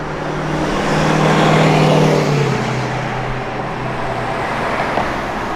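A 1963 Chevrolet Impala with a 2.5-inch Flowmaster dual exhaust rumbles loudly and close, its deep engine tone rising in a brief rev and then settling back to a steady throaty idle.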